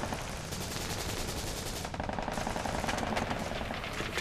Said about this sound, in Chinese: 是一栋后山有枪声